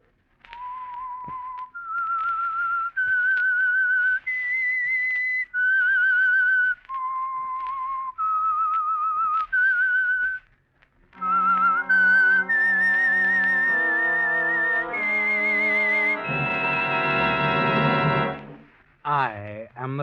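A whistled melody of sustained, wavering notes climbs and falls, then an orchestra joins in, swelling to a loud held chord before a final whistle; the theme tune of the 1947 radio drama The Whistler.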